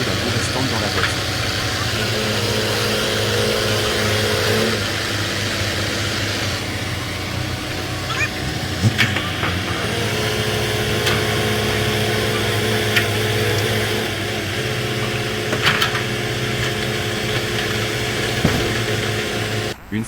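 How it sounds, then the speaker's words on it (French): An excavator engine runs steadily while clearing mud from an overturned Hino truck, a continuous low rumble with clanks and scrapes of work on top, and a voice talking over it. "L'excavatrice commença à nettoyer la boue restante dans la voiture."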